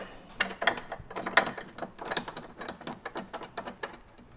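Ratchet tightening the windshield nut on a Jeep Gladiator, giving a rapid run of close, quiet mechanical clicks in uneven bursts.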